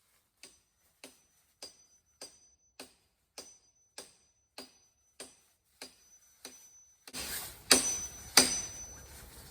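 An axe or splitting tool chops a block of knotty hardwood at a campsite, landing two loud, close strikes near the end after a run of faint, evenly spaced ticks.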